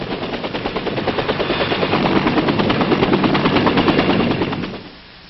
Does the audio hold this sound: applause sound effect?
no